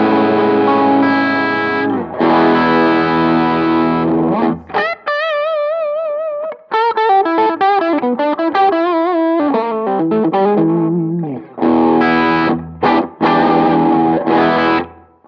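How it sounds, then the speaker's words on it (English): Electric guitar through a Wampler Triumph Overdrive pedal on its smooth setting with all knobs at noon: loud, sustained distorted chords alternating with bending single-note lead lines, played alone without talk. "we have the Triumph Overdrive with everything set to noon, and the middle switch switched up to the smooth setting"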